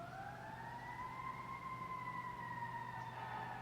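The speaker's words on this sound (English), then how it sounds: "okay, it's siren. I thought it's like some person singing." A distant siren wails in one long, slowly rising and falling tone, faint over a steady low rumble of traffic.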